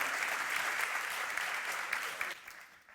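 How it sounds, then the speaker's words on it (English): A conference audience in Paris gives a round of applause, a dense wash of clapping that holds steady and then thins and fades toward the end. "please a round of applause"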